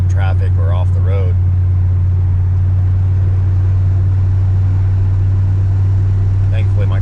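A truck with rebuilt suspension climbs a hill on the way to the Grand Mesa, its engine a steady low drone heard from inside the cab, with brief talking at the start and end.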